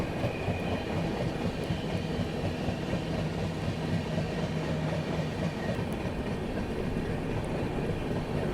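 The Ahmedabad Gorakhpur Express runs along the line with a steady, close rumble and continuous wheel clatter that holds unbroken throughout, with no voices.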